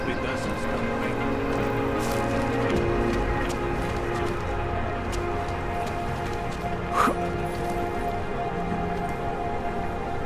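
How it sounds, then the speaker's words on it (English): Steady rain patters on surfaces, a soft continuous wash under a low hum and scattered game sounds, with faint voices mixed in. "Hope it doesn't stop raining."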